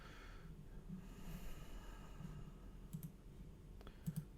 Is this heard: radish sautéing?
no